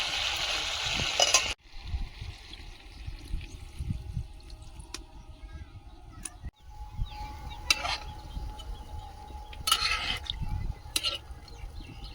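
Chicken pieces frying in oil in a pan, with a close, steady sizzle and crackle broken by brief stirring scrapes and a couple of sudden cuts in the sound.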